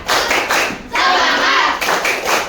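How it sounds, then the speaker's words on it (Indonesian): A classroom of students claps out a rhythmic spirit cheer together, loud bursts of unison claps in short groups with brief pauses between them. "Ayo tepuk semangat dulu"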